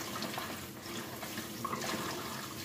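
Garlic scapes (Korean maneul jjong) rinsed under a running kitchen tap, a steady close splashing and trickling of water with no talking.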